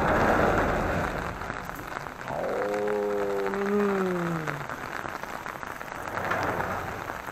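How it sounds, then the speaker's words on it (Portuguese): Heavy rain pours down steadily in a dense, even hiss, with a brief tonal wail rising and sliding down midway through before the downpour continues alone. "Chuva braba daquele jeito."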